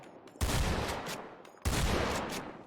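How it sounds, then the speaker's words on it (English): Two booming shotgun blasts from a police weapon in a FiveM game server, about a second apart, each hitting hard and trailing off into a reverberant tail, with no talking. "Shotgun."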